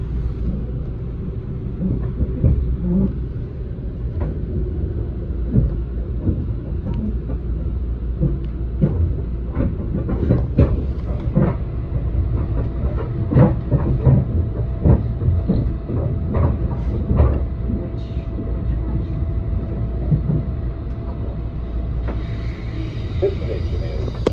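Rumbling ride aboard a Kawasaki M8 commuter train on the Harlem Line, with steady low rolling noise, scattered clicks and rattles from the car, continuing at an even level throughout.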